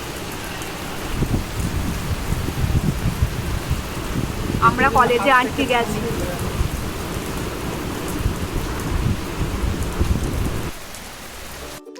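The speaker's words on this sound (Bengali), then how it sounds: "কি বৃষ্টি!" Heavy rain pours down steadily on a college building with low thunder rumbling through, while people talk over the downpour; the roar of the rain fades near the end.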